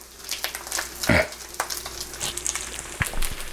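Greens sizzle and simmer in a pot with bacon, a steady crackling fry with scattered pops and a louder clattering burst near the middle, recorded close up.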